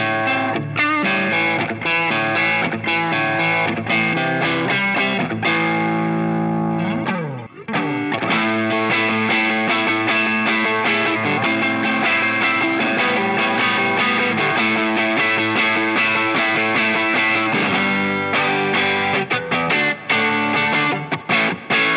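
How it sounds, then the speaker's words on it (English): An electric guitar played through a Line 6 POD Go using its '63 Spring Reverb, chords and notes ringing out with a springy, splashy reverb tail, continuing almost without pause over about twenty seconds. "this is the 63 Spring Reverb."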